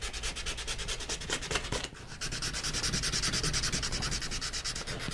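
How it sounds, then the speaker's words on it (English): Rapid rhythmic rasping of sandpaper shaping a wooden guitar bridge, close and steady, with a brief pause near the middle before the strokes resume. "sand some of that now"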